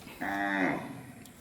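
A cow in a dirt farm pen housing pregnant cows lets out a single loud, drawn-out moo lasting about half a second, close by, with no talking over it.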